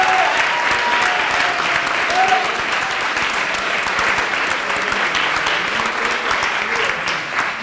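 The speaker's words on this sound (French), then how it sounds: "On peut l'applaudir très fort." Sustained audience applause at a regional cup final ceremony, a dense steady wash of many clapping hands filling the room, with faint voices and some talk mixed underneath.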